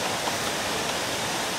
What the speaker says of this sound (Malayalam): ഏഴരക്കുണ്ട് വെള്ളച്ചാട്ടത്തിൻ്റെ ഒരു ക്ലോസപ്പ് ദൃശ്യമാണ്.